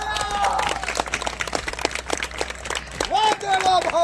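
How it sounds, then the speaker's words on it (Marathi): A crowd at an outdoor political rally claps in a brisk, dense burst of applause lasting a few seconds, with a voice rising over it toward the end. "वाजवा टाळ्या."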